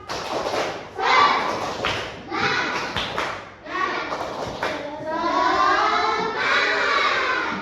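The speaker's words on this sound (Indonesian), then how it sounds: "Ayo, tepuk semangat." A class of fourth-grade children doing a rhythmic spirit clap, bursts of clapping and thumping mixed with loud excited voices and chanting.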